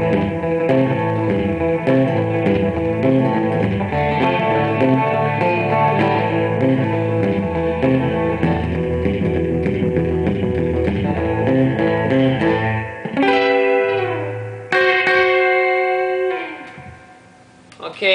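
A Danelectro Mod Six electric guitar, through a Danelectro Reel Echo pedal, plays a picked rockabilly-style pattern with a repeating echo trailing each note, followed by a few ringing sustained chords.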